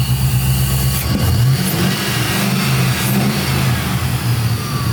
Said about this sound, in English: It actually comes back down to idle now without hanging idle for 5-10 seconds.